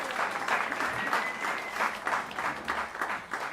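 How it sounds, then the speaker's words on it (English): An audience claps steadily at a Caffe Lena folk concert, a warm, even round of applause from a small room that keeps going at a consistent level. "please give a big round of applause for all of our Caffe Lena members in the audience tonight"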